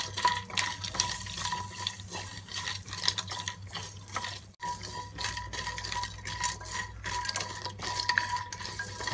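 Spices for a Thai palo pork stew being stirred and dry-toasted in a pan, a continuous scraping and rattling of a utensil against the pan over a low hum, steady and close.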